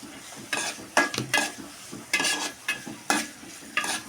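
Wheat rava upma being stirred and fried in a pan, with repeated short bursts of sizzling and scraping in an uneven rhythm, close and fairly loud.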